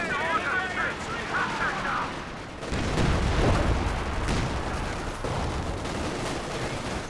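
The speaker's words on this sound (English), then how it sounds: "AT gun connecting here." Anti-tank gun firing in Company of Heroes 2, a sharp heavy shot followed by booming impacts and scattered gunfire in a busy battle soundscape, with a voice talking over it.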